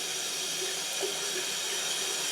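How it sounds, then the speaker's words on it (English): Tap water runs steadily into a container of soaking pea, bean and sesame seeds during rinsing, a constant close hiss of flowing water with no talk. "We're going to drain these and then rinse them."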